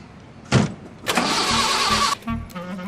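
A car ignition cranks in a few short bursts with a whirring starter, but the engine never catches; brief silences separate the attempts.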